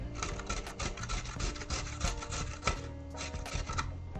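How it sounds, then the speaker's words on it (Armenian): Carrot and garlic rubbed against a kitchen grater in quick, steady back-and-forth strokes, close and fairly loud, with rasping scrapes repeating throughout and no voices. "այժմ քերում ենք գազարը և միանգամից սխտորը"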